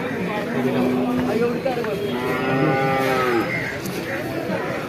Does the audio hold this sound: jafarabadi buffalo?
yes